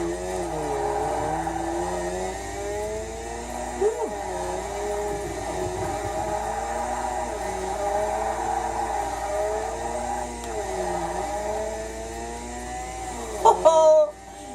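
Mazda Bathurst R rotary engine in a Forza racing game, a buzzing, wavering drone that rises and falls through gear changes, steady and moderately loud, with a sharp clatter near the end.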